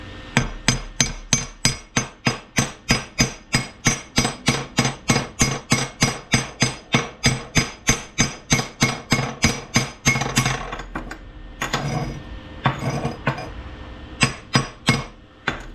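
Slag chipped off a fresh flux core weld with a chipping hammer: a fast, regular run of sharp metallic raps, loud and close, then a looser, scattered burst of taps near the end.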